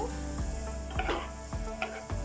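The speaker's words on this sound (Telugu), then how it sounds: "మధ్య మధ్యలో తిప్పుకుంటూ బీట్రూట్ ముక్కలు మెత్తబడే వరకు మగ్గించుకోవాలి" Beetroot pieces cook over a medium flame in a pan, with a steady gentle sizzle under a low hum and a few spaced spatula scrapes as they are stirred.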